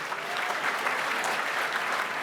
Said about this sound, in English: Please join me in applauding all of the finalists across all of the Ethnic Business Awards Foundation categories